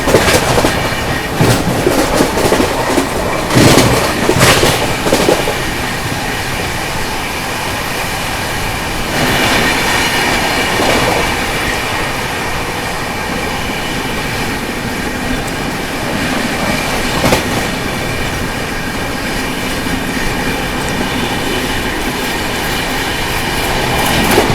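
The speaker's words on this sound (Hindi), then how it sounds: "अभी अपनी राजधानी एक्सप्रेस ओवरटेक करने जा रही है पटना दिल्ली अमृत भारत एक्सप्रेस को" Rajdhani Express train running at high speed while overtaking the Patna–Delhi Amrit Bharat Express, a loud continuous rumble and rush with clickety-clack of wheels and occasional squeals, no talk.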